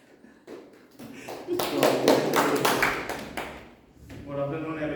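Brief audience clapping at a Toastmasters club meeting, building from scattered claps into a short burst and then fading, followed by a voice starting to talk.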